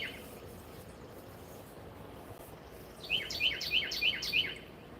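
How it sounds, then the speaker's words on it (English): A wren in the early morning gives a quick series of about five bright, rhythmic chirps, loud and fairly near, after a single call at the start, with a faint background hiss. "it's that little bird that I videoed, did a short, uh, little bird, big volume, big sound. I, I think it's a wren of some kind."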